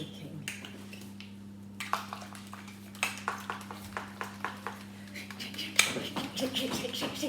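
Egg whites shaken hard in a container for a quick meringue, heard as a run of rhythmic knocks and rattles that start sparse and quicken into repeated clatters, with a low steady hum underneath.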